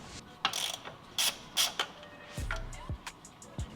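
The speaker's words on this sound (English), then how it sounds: "We're going to remove the 13mm nut holding the linkage to the transmission." A hand ratchet clicks in short bursts while loosening the 13mm nut on the transmission shifter linkage of an Audi B8/8.5, with close metallic ticks and clanks, no talking.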